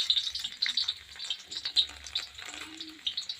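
Chopped garlic frying in hot oil for veg noodles, a close, bright crackling sizzle that flickers continuously with a faint soft scrape or two underneath.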